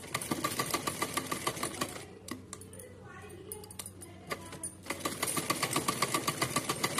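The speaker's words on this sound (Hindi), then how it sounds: "इसको 2 इंच में सिलाई लगाएंगे। तो चलिए सिल लेते" A sewing machine stitches fabric for a small doll's dress in rapid, steady needle bursts, pausing briefly in the middle before resuming, close and fairly quiet.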